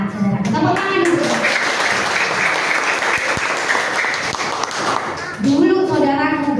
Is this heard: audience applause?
yes